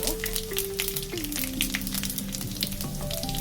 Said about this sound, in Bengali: শুকনো লঙ্কা দুটো একটু ফাটিয়ে দেব